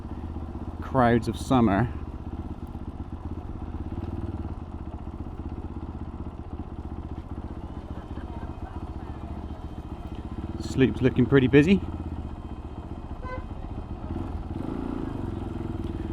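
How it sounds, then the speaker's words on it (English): A motorbike ridden through busy summer streets near St Ives, its steady low engine drone and wind rumble running close and continuous throughout, with a rider speaking briefly over it twice. "it really is quite liberating getting around on a motorbike"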